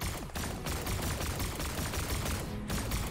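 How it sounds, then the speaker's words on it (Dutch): Player's gun firing in Fortnite, a dense stream of shots packed together at close range, loud and continuous with only brief gaps. "Wow, nu schiet ik echt maar..."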